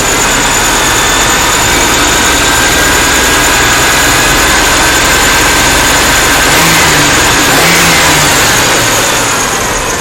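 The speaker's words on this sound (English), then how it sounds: "So we rev it up" A 1996 Chevy 1500 truck engine runs very loud and close, a dense steady roar with a whining tone and a brief rise in revs near the end, and no talking.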